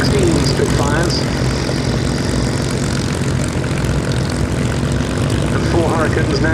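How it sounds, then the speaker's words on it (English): Spitfire and Hawker Hurricane WWII fighters, three Spitfire Mark 1As and four Hurricanes, idling their piston engines together at an airshow, a loud continuous propeller drone with a steady throbbing rumble close by, and commentary over it. "and 4 Hurricanes now all fired up"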